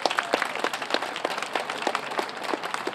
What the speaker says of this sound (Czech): tak veliký potlesk.